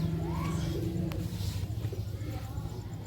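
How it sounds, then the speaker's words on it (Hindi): Teddy breed pigeon cooing up close in a low, soft, repeated rumble, with faint background noise and a short click partway through. "ये भी टैडी कबूतर है।"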